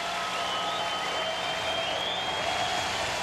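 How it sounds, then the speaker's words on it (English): A crowd at Kauffman Stadium stands and roars during a Rangers at Royals baseball game, a steady, dense wash of cheering and clapping that holds at full strength without a break. "Crowd at Kauffman Stadium on their feet, trying to implore Jason Frazier to get the job done here."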